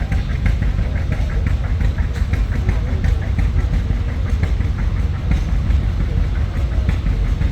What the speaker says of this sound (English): A John Deere 2030 with a 48 motor from Lynn Grove, Iowa